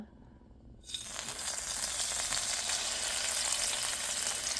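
Two marinated salmon pieces dropped into a pan of hot olive oil, a quiet start that bursts into a loud, steady crackling sizzle which holds to the end.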